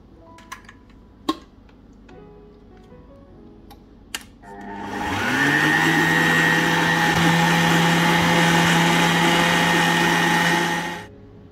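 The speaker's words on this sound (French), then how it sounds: "Je vais préparer mon coulis de fraises dans un blender." A few sharp clicks and taps give way to a blender whirring up to a steady, loud motor drone as it purees strawberries with pressed lemon into a coulis, running for about six seconds before stopping.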